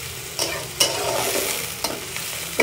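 Small shrimp and onions sizzle in a pan, heard up close as a continuous hiss with intermittent scraping spatula strokes and clinks, no voices.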